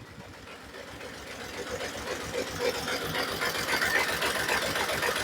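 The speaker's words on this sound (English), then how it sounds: "this is only a tiny 3-cylinder engine, and since we removed the ignition coil and spark plug, it will be running on 2 cylinders now" A tiny 3-cylinder engine with its ignition coil and spark plug removed, idling unevenly on two cylinders, giving a steady close-up chugging rhythm with a slight lopsided beat and no voices.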